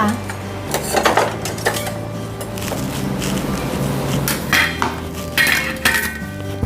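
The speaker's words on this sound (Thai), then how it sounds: "เรามาหั่น หัวไชเท้ากันเลยค่ะ" Irregular knife chops through daikon radish on a cutting board, sharp wooden knocks and clinks at an uneven pace, close by, with faint background hum.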